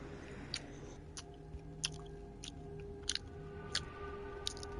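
A person chewing loudly close to the microphone, with wet smacking and crunching bites recurring at irregular intervals over a low game soundtrack hum.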